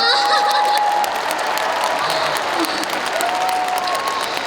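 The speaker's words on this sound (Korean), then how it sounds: "박수 부탁드리겠습니다" Concert audience applauding steadily throughout, a dense wash of clapping from a large crowd with a few faint cheers and whistles mixed in.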